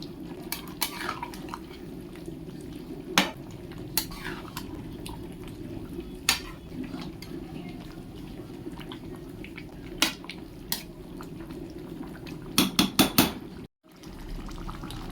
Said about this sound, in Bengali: ভালো করে মিশিয়ে নেব এঁচড় চিংড়ি সব একসঙ্গে